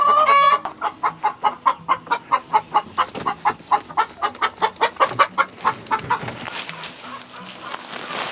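A broody hen in a chicken coop gives a loud, rapid, rhythmic series of clucks at close range, about twenty in a row and fading toward the end, with no talking.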